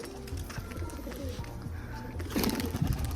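Pigeons in a village coop cooing softly and steadily at close range, low repeated coos continuing throughout, growing a little louder and busier near the end.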